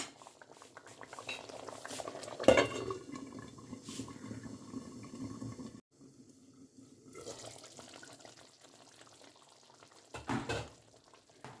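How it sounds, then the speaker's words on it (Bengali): Aloo dum simmering covered over a low flame, a soft steady bubbling and hiss with a louder clatter near the start and a brief gap in the middle. "এবার ফ্লেমটাকে কমিয়ে দিয়ে ঢাকা দিয়ে রান্না করে নেব।"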